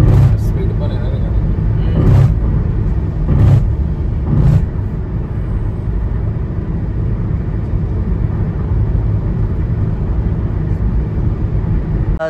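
Car cruising at around 120 km/h on a highway toward Jalna, heard from inside the cabin: a steady, loud low road-and-engine rumble with a few brief knocks, and voices talking over it at times.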